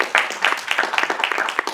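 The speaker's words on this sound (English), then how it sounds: "So a round of applause, please." Audience applause at a school project presentation, a short burst of many hands clapping at moderate loudness with crisp, irregular claps throughout.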